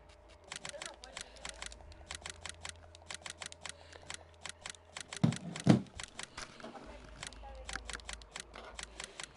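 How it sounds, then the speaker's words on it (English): Rapid clicky keystrokes come from a computer keyboard, typed close up in quick uneven bursts with short pauses and a couple of heavier thumps midway. "I'm typing it in the chat right now"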